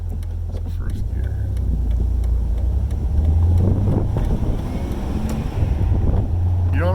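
A Jeep TJ with a 383 engine and a swapped-in AX15 manual transmission drives in first gear, giving a steady low engine drone with wind and road rumble throughout.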